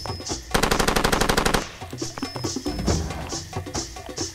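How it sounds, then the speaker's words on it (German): Machine-gun fire in Far Cry 2: a dense, loud burst of rapid automatic shots lasting about a second, followed by scattered single shots and lighter, more distant gunfire amid other game sounds. "Wild um mich schießen."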